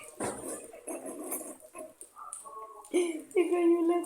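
A dog whimpers and whines during a rainstorm, with thin high whines rising toward the end, mixed with a person talking and other household sounds.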